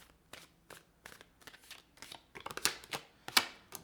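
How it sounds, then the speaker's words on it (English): Tarot cards being shuffled by hand at close range, a series of quick, crisp riffles and slaps in irregular rhythm that grow louder and sharper toward the end. "Let's give it one more shuffle."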